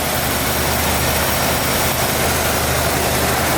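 A bright red, original-paint Ford Bronco Eddie Bauer idles smoothly and steadily, a close, constant engine rumble with no ticking, knocking or other sounds over it.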